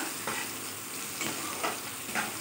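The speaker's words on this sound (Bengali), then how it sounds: "একটু ভালো করে নেড়ে ভেজে নেব।" Baby corn stir-fried in a pan over low gas, a steady soft sizzle with a few brief scraping stirs at regular intervals, close and fairly quiet, no voices.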